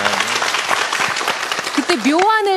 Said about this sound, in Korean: 박수 한 번 보내주시면 네, 고맙겠습니다.